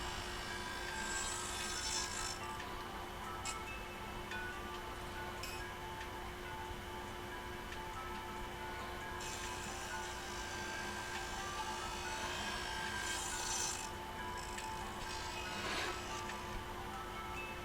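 Wood pieces being cut for a shoulder joint on a desk/bed combo give steady, close rasping strokes, continuous and fairly even, with a few louder bursts and no voices.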